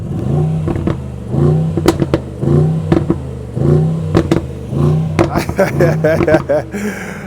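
The engine of a Mercedes GLE 63 S Coupe AMG facelift revs repeatedly in short, loud, close bursts, each climbing then dropping, with pops and crackles toward the end.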